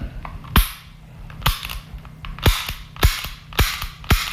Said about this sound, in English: you can hear that the squeeze cock is quite loud